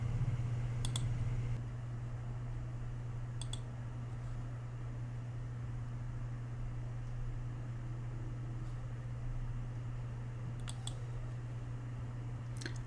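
Sparse, sharp computer mouse clicks, a few widely spaced over a steady low hum and faint background hiss, heard close and quiet.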